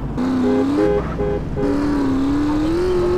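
A car driven in GTA, loud engine drone rising and dropping in pitch as it shifts gears and accelerates, close and continuous without speech.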